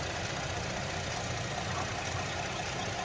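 Steady, smooth idle of a 3.6-liter V6 under the hood of a 2012 Buick Enclave with 124,000 miles, a constant close engine hum with no speech.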